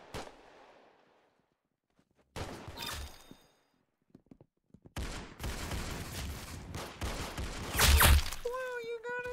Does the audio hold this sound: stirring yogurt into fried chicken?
no